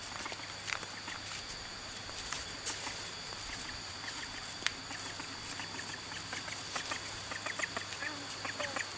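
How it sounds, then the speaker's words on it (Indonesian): Ducks by a village river quack in scattered bursts over a steady outdoor background, with footsteps and occasional brief voices nearby. "bebek lari duluan"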